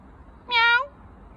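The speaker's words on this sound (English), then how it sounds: "Dobra, widzicie, że to kot." A cat gives a single short, clear meow lasting about half a second, close by, over quiet background noise.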